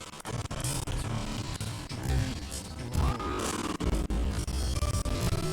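Glitchy, stuttering game audio from Tekken Tag Tournament lags and breaks up into dense crackling, buzzing fragments with abrupt dropouts, loud and continuous with no clear speech.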